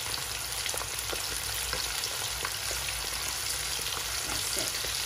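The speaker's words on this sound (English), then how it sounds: "So I'm going to be frying this in about 2 to 3 batches" Chicken wings fry in hot oil in a wok, a steady soft sizzle with scattered crackles and pops throughout, close but fairly quiet, with no voices.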